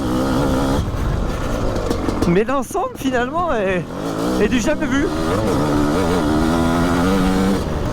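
A 2022 Honda CB500 motorcycle engine drones steadily throughout while riding, loud and close, while someone talks over it for most of the clip.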